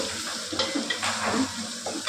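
Water poured into a hot frying pan with cashews sets off a steady, loud sizzle and bubbling, with faint scraping and clinks of a utensil against the pan.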